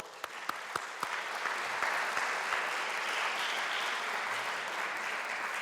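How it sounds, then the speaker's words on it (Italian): At an art exhibition event in Venice honoring Getulio Alviani, a few separate claps open and quickly swell into steady, moderately distant applause from the gathered audience. "Vi prego un applauso."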